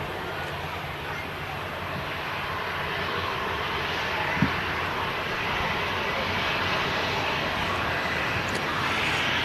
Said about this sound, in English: The next aircraft to arrive is indeed the king of the skies,